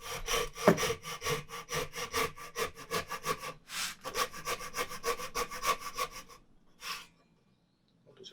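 Japanese hand saw cutting through wood for a housed dovetail joint: close rhythmic rasping strokes whose tone shifts as the cut nears completion, then a last few strokes and quiet.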